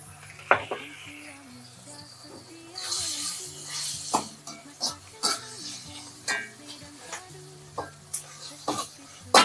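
Scraping and clattering of a spatula stirring bean sprouts in a wok, with irregular metallic knocks over a soft sizzle.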